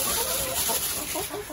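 Farm chickens cluck in a rural yard during light drizzle, with a few soft, scattered clucks under a steady hiss of rain.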